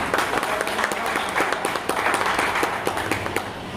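An audience at a BAMCEF convention applauds steadily, many hands clapping together at an even, lively pace throughout.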